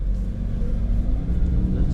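A 1996 Toyota RAV4 L with automatic transmission and AWD idles steadily, its engine giving a continuous low rumble close by with no talking over it.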